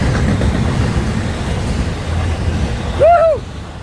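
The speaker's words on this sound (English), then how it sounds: "here comes the train" A freight train rumbles past nearby, a steady low rolling noise, broken near the end by a short rising-and-falling tonal whine.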